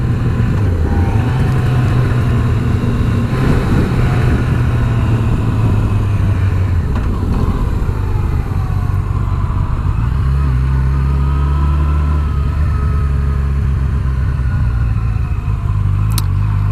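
A 2019 Yamaha FJR 1300 AE sports touring motorcycle being ridden, its engine droning loudly and steadily, with the pitch shifting as it accelerates and eases off, heard close and with no speech.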